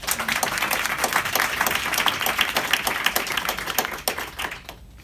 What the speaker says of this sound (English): Let's give the judge a big round of applause.